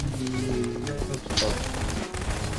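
Video-game gunfire in Garry's Mod crackles in sharp bursts, mixed with game sounds and running under near-constant talking from players.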